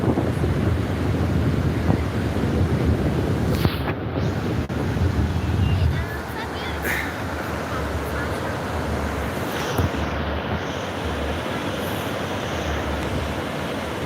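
Ocean waves wash onto a beach in Sao Paulo in a continuous broad roar, with strong wind buffeting the microphone early on before the surf settles into a softer, even rush.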